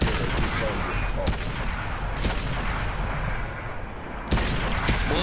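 Repeated tank cannon shots boom out in World of Tanks over a dense rumbling battle bed, with sharp blasts near 1.3, 2.2 and 4.3 seconds and a brief lull just before the last one.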